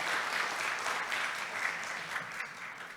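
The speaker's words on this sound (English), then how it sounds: "please applaud Dr. Nasedra" At a disaster health management academic conference, a conference audience applauds a speaker with a continuous, moderately distant round of clapping that holds steady and begins to thin slightly near the end.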